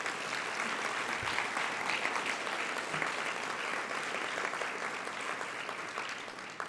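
A room full of people clapping at a city State of the City address in Gresham, a dense, even round of applause that carries on steadily and tapers slightly at the end.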